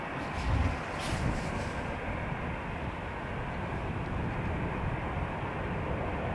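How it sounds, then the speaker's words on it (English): An EasyJet Airbus A320 jet departs from Amsterdam Schiphol, a broad, steady roar of engine noise heard from a distance, continuous throughout. "EasyJet A320 off to Lisbon."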